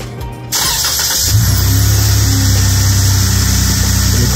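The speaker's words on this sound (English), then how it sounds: "And the car starts." A Jeep Wrangler engine, remote-started from a smartphone, cranks briefly and catches, then settles into a loud, steady idle close by with no talking.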